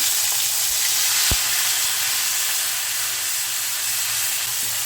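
Ginger paste hitting hot oil in a pan with a pinch of hing for a no-onion, no-garlic cauliflower dish, giving a steady, close frying sizzle and hiss with one sharp clack early on.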